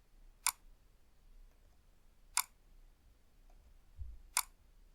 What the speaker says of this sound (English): turn off the clicking noise in Windows 11